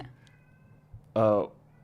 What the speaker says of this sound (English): my cats are going kind of crazy